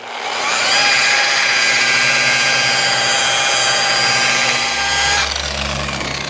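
A power buffer with a wool pad spins against car paint, a steady high-pitched whirring grind that holds loud and constant for several seconds before dropping into a lower hum near the end, with no talking.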